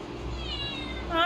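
A cat meows twice, high and drawn out, close by, with a second cry rising louder at the end over a low background hum.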